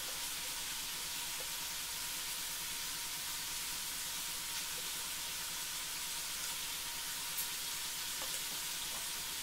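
A tempering of green chillies and curry leaves sizzles steadily in hot oil, giving a continuous close hiss with no pauses and no voices.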